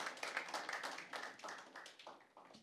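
Audience applause for two school debate teams, a faint burst of rapid, overlapping claps that thins and fades over a few seconds, heard from a distance.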